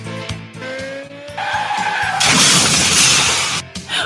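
A motorcycle crash effect: tires skid and squeal, then glass shatters and debris scatters in a loud burst lasting a couple of seconds before trailing off, with no talk over it.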